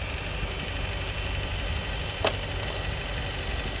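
A car engine idles steadily right after a battery jump start, a close, continuous low rumble with one brief sharp click partway through and no talking.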